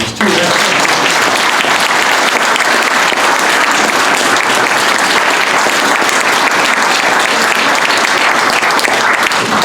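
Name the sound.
audience round of applause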